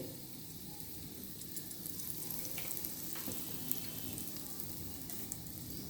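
Cumin and asafoetida sizzling in a hot kadhai with oil, a continuous soft crackling hiss that stays fairly faint and steady, with a few small clicks and no speech.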